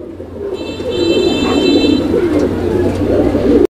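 A male pigeon coos repeatedly in low, rolling phrases, close and steady, with a faint high electronic whine in the background.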